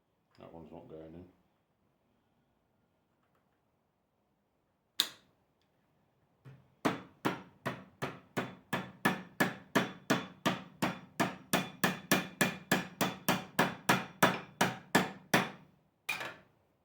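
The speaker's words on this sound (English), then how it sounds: "And hammer those home." A brief voice, then a steady run of about twenty sharp hammer strikes driving metal lacing pins into a flat drive belt at a mill, evenly paced and close, ending with a final tap.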